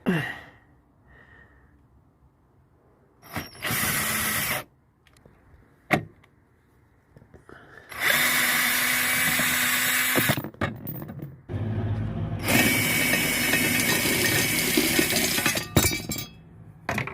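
A power tool fitted with a 1/2 inch socket removes bolts during a Kangoo microcamper build, with several loud bursts of whirring rattling that start and stop, separated by quieter gaps with faint clinks of metal.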